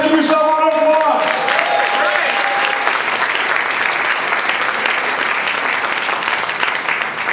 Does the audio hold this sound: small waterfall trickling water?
no